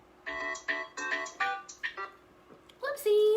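A mobile phone ringtone chimes in a bright repeating melody of short tonal notes, fairly close and clear, going off unexpectedly during a live pastel makeup session.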